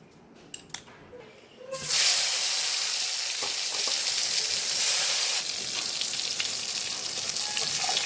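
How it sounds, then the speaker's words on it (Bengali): Eggplant pieces frying in hot oil in a pan over a high gas flame, a loud steady sizzle that bursts in suddenly after a few quiet clinks and holds strong to the end. "বেগুন কটা আমি গ্যাসটা হাই ফ্লেমে একদম ভেজে নেবো তাড়াতাড়ি করে।"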